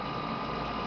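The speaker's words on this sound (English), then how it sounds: "It's hot, so I got on the AC." A steady, droning hum of an air conditioner running, even and unbroken with a low mechanical tone throughout.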